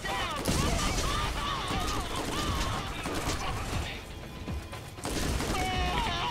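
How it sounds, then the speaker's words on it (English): Rapid gunfire and mechanical weapon clatter from the video game Borderlands fill the clip continuously, loud and busy, with music and game effects layered in and people talking over it. "Stop shooting at me."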